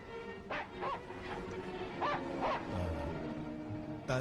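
A dog in the 1940 film Thief of Baghdad gives a series of short barks and yips with whimpering between them, fairly close, over faint background noise.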